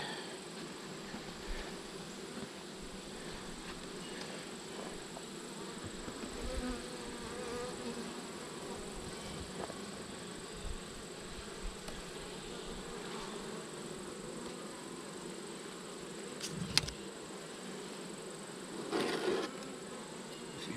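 Bees buzz softly and continuously, a faint, steady insect drone with a few small clicks and rustles and no voices.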